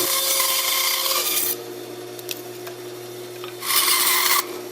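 Hand trimming of a carved wooden fish cutout, with steady rasping strokes loud at the start, then quieter intermittent scraping and a second burst of close rubbing near the end.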